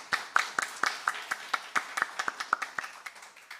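Members of a Unitarian Universalist congregation at a Sunday service clap for the musicians, including violinist Eric Ramos, a modest scattering of sharp, separate hand claps in a loose, fairly even rhythm that tapers off.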